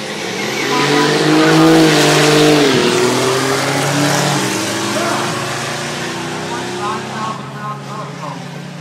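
A drag race car launches down the strip, its loud engine note climbing and rising in pitch with brief tire squeal, then fading steadily into the distance as it runs away.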